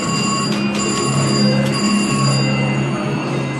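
Electronic chiming tones ring out in a continuous jingling pattern over a busy background hum, a slot machine sounding off in a casino.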